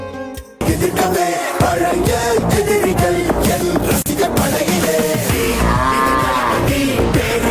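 Loud, close cattle mooing in a village setting, with a cow lowing long and continuously through most of the clip after a brief quiet start.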